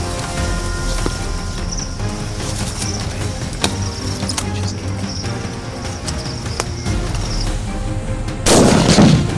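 Rifle gunshots during a leopard hunt in Namibia's arid highlands, several sharp reports spread across the clip with a louder, heavier blast near the end, set against an outdoor background.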